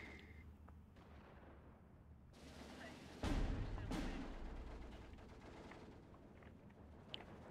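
Gunfire from a unit deploying in the Steel Division 2 war game, a sudden loud burst followed by a few more shots that trail off into rumbling battlefield ambience, faint and distant overall.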